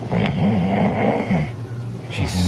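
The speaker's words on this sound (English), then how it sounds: "She's snoring, and while she's snoring, she farts." Loud, steady snoring from a person asleep during a livestream, with rumbling breaths repeating through most of the stretch and a short break near the end.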